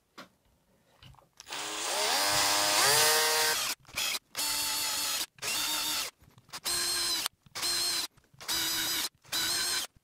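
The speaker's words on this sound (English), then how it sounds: "Let's drill." A power drill whirs up and bores steadily into the wood of a Sire Marcus Miller V3 bass guitar headstock, then runs in a series of short bursts with brief pauses between them.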